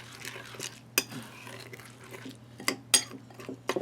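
A spoon stirs rehydrating food inside an Estonian 24-hour ration container, giving scattered scrapes and a few sharp metallic clinks close up over a low steady hum.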